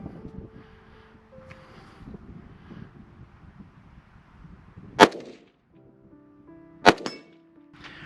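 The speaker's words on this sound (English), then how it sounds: "First round out of the gun hit the steel target." Two sharp metallic impacts ring out from rounds fired by a Delta Team Tactical DD-15 rifle striking a steel target, spaced about two seconds apart over faint wind and low background noise.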